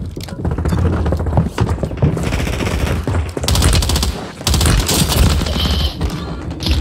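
Rapid automatic gunfire rattles loudly in Call of Duty Warzone Rebirth, dense bursts of shots with short gaps and a couple of heavier impacts, dominating throughout.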